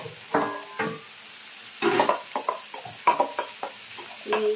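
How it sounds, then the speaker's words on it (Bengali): Two large onions are stirred as they fry in a pan for a chickpea curry, giving close, uneven bursts of scraping and sizzling with short quiet gaps between strokes. "এর মধ্যে পেঁয়াজটা দিয়ে দিচ্ছি।"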